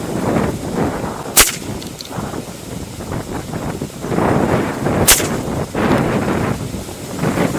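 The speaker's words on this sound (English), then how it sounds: "we're shooting CCI game point, 20 grain." Two sharp rifle shots from a .17 HMR or .22 Mag firing CCI GamePoint 20 grain ammunition at an outdoor range, spaced a few seconds apart over steady wind noise.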